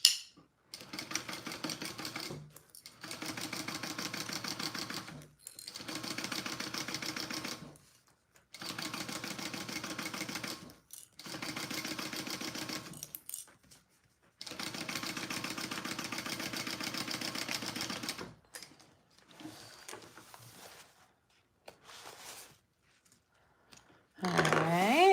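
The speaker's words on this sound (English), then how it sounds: "Sew that together, right sides together." A sewing machine joins backpack pieces, whirring in repeated bursts of a few seconds each, separated by short pauses, moderately close, with speech over it.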